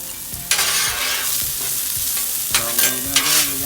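Onions sizzle and crackle on a hot flat-top grill set to medium, with a steady close frying hiss and a few scraping stirs from a spatula, with no voices.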